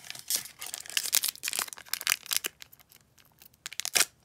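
Crinkly foil wrapper of a trading card pack being torn and crumpled up close, a series of sharp ripping and crackling bursts in uneven rhythm.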